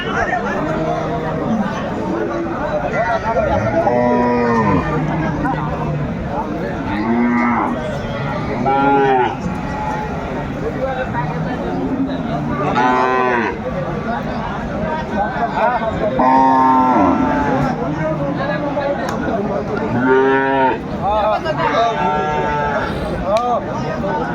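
Cows and calves moo again and again at a busy rural cattle market, long lowing calls overlapping near and far under steady crowd chatter and people talking.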